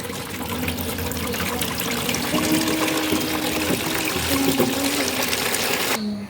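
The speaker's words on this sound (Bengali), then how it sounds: "এদিকে জামা কাপড়গুলোকে ভিজিয়ে নিচ্ছিলাম" Water runs steadily into a tub to soak clothes in a home, a continuous splashing flow with a faint tonal hum underneath, close and loud, cutting off abruptly near the end, no voices.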